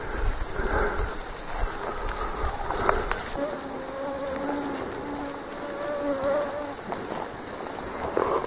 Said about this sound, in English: There were a few mosquitoes